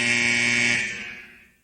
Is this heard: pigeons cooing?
no